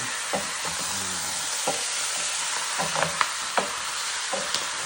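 Chicken for sinigang being stirred in a pot with two ladles, a steady sizzle of frying under sharp metallic clinks and scrapes repeating irregularly, close and without speech.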